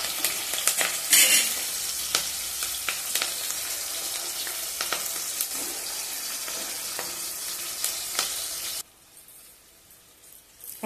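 Brinjals frying in oil with onion and tomato pieces give a steady, close sizzle with occasional stirring clicks for most of the stretch, then drop to a quieter simmer near the end.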